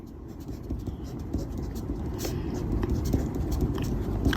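Chalk or a marker writing on a board during a maths lesson, soft scratchy strokes growing slightly louder, heard close over a low background hum.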